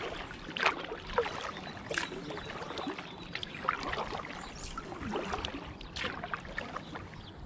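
Paddle strokes from a Story kayak drifting downstream on the River Ouse in York, with soft water splashes and trickles recurring about every second or two over a steady outdoor wash, close and moderately quiet.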